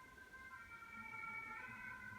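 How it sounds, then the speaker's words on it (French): An emergency vehicle's siren wails as it passes along a street, a sustained tonal sweep heard at moderate distance with no voices, rising slightly in loudness. "on laisse passer la sirène"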